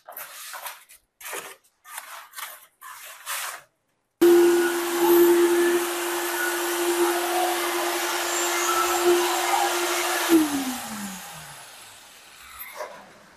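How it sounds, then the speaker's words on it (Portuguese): A concrete vibrator compacts concrete poured into formwork for a folded stair. Its motor gives a steady, fairly loud whining hum for several seconds, then winds down in pitch, after a few short mechanical bursts. "É importante sempre ter o adensador aqui"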